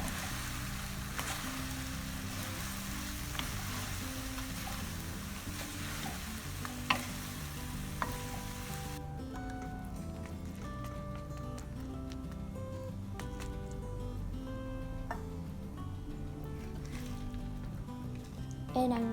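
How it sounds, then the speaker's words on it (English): Deep-fried tofu is gently mixed into a sizzling pan, with a steady quiet frying hiss and occasional soft scrapes and clicks of stirring throughout. "And then add in all of the tofu that we have deep fried. And then gently mix this in."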